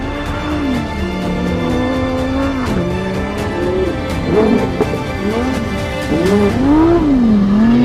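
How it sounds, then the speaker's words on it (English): Lamborghini Huracán Sterrato, a raised off-road supercar, drifts around a corner, its engine note rising and falling with revs while tyres squeal and scrub steadily across the whole stretch, loud and close with no talk. "You drift the car easy around the corner."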